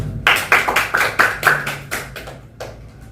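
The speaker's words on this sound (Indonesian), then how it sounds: "Tepuk tangan." Sparse hand claps from an audience at a Gen Z youth talk session, roughly nine sharp, close claps in a loose rhythm before trailing off.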